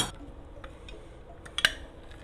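A knife cuts a lime in half while preparing banh mi tacos, giving one short, crisp knock near the end against an otherwise quiet kitchen background.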